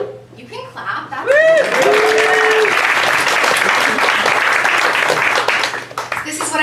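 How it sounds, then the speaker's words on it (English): An audience at a stand-up comedy class show bursts into loud clapping and laughter after a brief whoop and a short spoken line, the applause swelling suddenly and holding strong before fading near the end. "You can clap."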